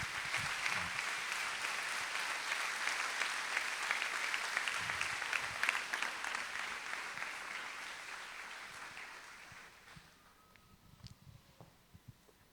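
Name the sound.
audience applause in church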